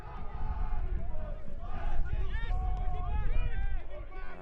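Stadium crowd at a FC Tucson versus South Georgia Tormenta FC soccer match stirring after a goal, a broad roar and babble with cheers and whistles, a commentator talking over it.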